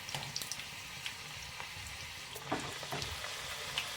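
Bottle gourd vada frying in hot oil over a medium flame, a soft steady sizzle with small crackles and pops, faint and continuous, no voices.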